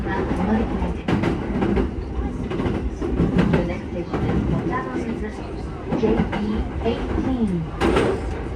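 A JR Chuo-Sobu Line train runs through Tokyo with continuous rumbling and rhythmic clickety-clack of wheels over rail joints, heard from inside the carriage with steady interior noise throughout.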